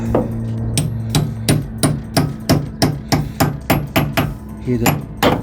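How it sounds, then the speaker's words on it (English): A small hammer taps a metal Allen key about a dozen times in a steady rhythm during work on a Citroen C1, each strike sharp and ringing at close range. "I'm just going to get a little hammer and give that a little tap on."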